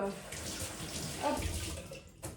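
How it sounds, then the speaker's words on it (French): Tap water runs steadily into a kitchen sink while hands are rinsed during fruit salad preparation, a close, continuous splashing hiss with brief shifts as the hands move under the stream. "je vais juste me rincer un petit coup les mains"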